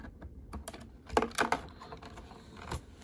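Sharp clipping snips as a Star Wars Black Series action figure is cut free from its plastic packaging ties, a few close crisp clicks bunched together with quieter handling rustle between them.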